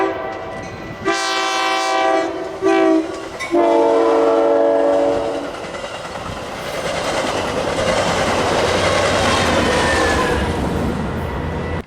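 An inbound Metra commuter train near Chicago blows its horn in loud bursts of long, stacked tones, then roars past close by with rumbling, rushing wheel noise that carries on steadily to the end.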